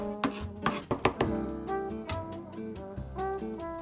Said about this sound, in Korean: 다음은 느끼함을 잡고 깊은 맛을 내기 위해 청양고추와 마늘을 다져서 같이 넣어줄 겁니다